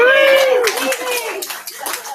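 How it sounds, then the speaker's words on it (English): Attendees at a general meeting of an ESE advisory council clap together after a cheerful shout, a quick scatter of close handclaps that thins out as it goes on. "Everybody clap."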